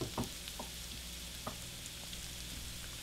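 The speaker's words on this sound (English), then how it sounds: "Remember to keep stirring the eggs so they stay nice and yellow." Scrambled eggs cooking in a cast iron skillet, a quiet steady sizzle broken by a few soft scrapes of stirring, fairly faint, with no talking.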